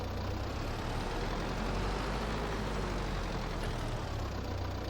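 A tractor engine idles in Farming Simulator 22, giving a steady low, even rumble that holds constant throughout with no talking over it.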